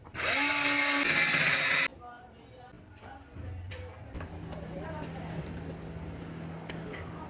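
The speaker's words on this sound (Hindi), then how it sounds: "अब जो है हम बटन के लिए सुराख कर लेते हैं यहाँ पे" Electric drill boring a hole for a switch button in a DC rechargeable fan housing: a loud, steady high whine for about two seconds, then it stops, leaving a lower motor hum and background noise.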